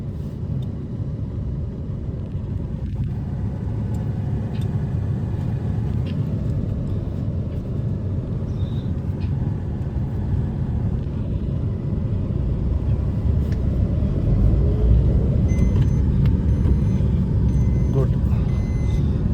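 A car engine rumbles low and steady as the vehicle moves off during a driving lesson, the drone slowly rising in level, with people talking over it.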